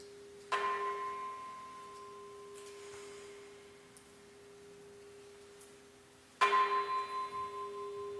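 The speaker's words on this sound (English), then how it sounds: "And the sound of the bell for all of us here," Two strikes of a bell, several seconds apart, each ringing with a clear sustained tone that slowly decays, heard alone in a quiet space.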